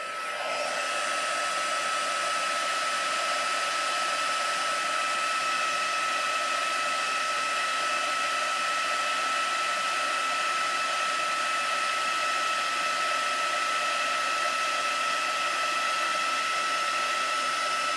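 Heat tool blowing hot air from above onto a 5 x 7 inch triangular pop-up card, a loud, steady, unbroken whoosh that holds evenly from start to finish.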